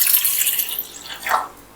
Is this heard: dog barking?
no